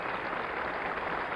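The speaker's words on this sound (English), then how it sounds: "Acknowledging the applause." Dense, steady applause from a golf gallery at the 1966 U.S. Open for Arnold Palmer, a continuous wash of clapping at moderate distance with no pauses.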